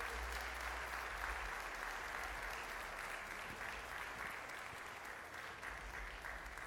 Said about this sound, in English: Some applause there.